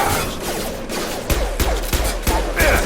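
Gunfire in Mass Effect Legendary Edition combat, a steady run of sharp shots with several louder bursts in the second half, close and continuous over a busy battle bed.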